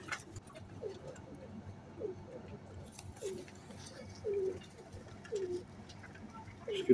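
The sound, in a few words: pigeon cooing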